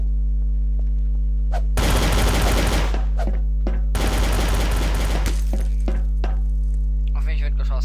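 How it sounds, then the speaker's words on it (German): Gunfire in the game Garry's Mod, Trouble in Terrorist Town: two dense bursts of rapid shots, each lasting about a second, over a steady electrical hum. "Auf mich wird geschossen."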